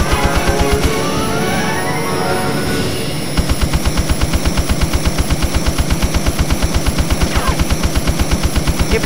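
Rapid, evenly spaced bursts of automatic cannon fire from an F-16 in the PS1 game Eagle One: Harrier Attack hammer on for several seconds, loud and mechanical, with a brief pause before resuming.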